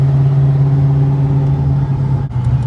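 A steady car engine drone with a low, even hum while driving, holding constant with a brief dip near the end.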